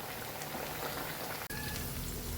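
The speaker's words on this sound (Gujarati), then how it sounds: "આપણે ગોલ્ડન બ્રાઉન કલરની બધી ચાપડીને તરી લઈશું" Chapdi dough deep-frying in hot oil for a Kathiyawadi meal, giving a steady, dense crackling sizzle like rain on a surface, with one brief dropout partway through before the bubbling resumes.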